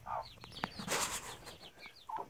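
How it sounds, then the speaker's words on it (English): A broody mother hen clucks softly among a clutch of newly hatched baby chicks, with short faint peeps and a brief wing flutter close by, quiet overall. "show you the baby chickens that mama hen hatched out"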